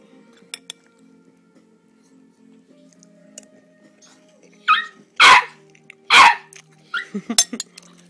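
A puppy barks twice in quick succession, fairly close, followed by light clinks and a few faint clatters in an otherwise quiet room.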